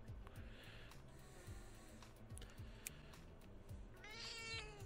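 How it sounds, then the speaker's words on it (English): A tortoiseshell cat meows a few times over a busy game-music background, with a brief high chirp near the end; the cries are moderately close but partly masked. "I have a tortoiseshell cat"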